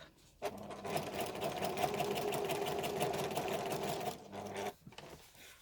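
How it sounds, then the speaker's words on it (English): A sewing machine stitches a bum bag pocket, a close, steady mechanical whir lasting several seconds before it stops, followed by a few soft handling knocks. "if you do this stitch now before you make up the pocket, it will help"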